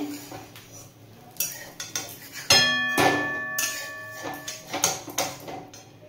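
A pancake flipped in a pan with a utensil, heard as a sharp metallic clatter and ringing scrape of cookware, followed by lighter taps and clinks against the pan, close and moderately loud.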